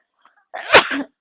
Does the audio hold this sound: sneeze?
yes